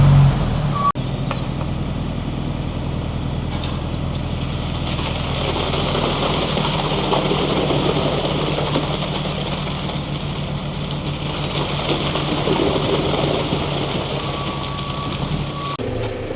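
On a building site where concrete is being poured for a new shed, a dumper engine runs steadily for a long stretch, a droning mid-distance rumble, with a faint high beep near the end.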